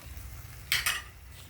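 A frog stir-fry with chili and holy basil sizzles softly in a pan after a splash of water, with two quick scraping stirs of a utensil against the pan rising over the low frying hiss.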